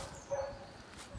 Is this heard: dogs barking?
yes